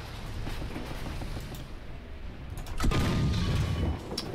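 Tank battle in War Thunder arcade mode, with an M60 and IS-4, giving continuous rumbling gunfire and a heavy booming explosion midway, dense and loud throughout.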